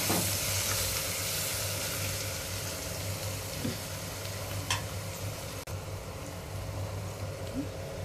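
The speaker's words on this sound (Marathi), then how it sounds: "फ्राय झालाय कांदा।" Onion frying in a pan for a sopya gavarichi bhaji, a constant bright sizzle with a few soft stirring knocks, close and fairly loud with no talk.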